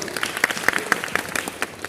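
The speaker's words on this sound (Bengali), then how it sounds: "এর জন্য সকলের কাছ থেকে করতালি আশা করছি" Audience applause fills a hall at a foundation's seventh anniversary event, a dense, steady clatter of many hands with a few sharper individual claps standing out.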